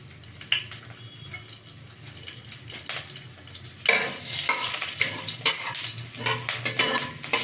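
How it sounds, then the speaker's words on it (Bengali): A bay leaf, green chillies and panch phoron fry in a little oil, a quiet clink and light stirring first, then a sudden loud burst of sizzling with spatula scrapes up close. "প্রথমে আমি একটি তেজপাতা ফোড়নে দেব, দুটো কাঁচা লঙ্কা দিলাম, 5 ফোড়ন দিলাম কিছুটা"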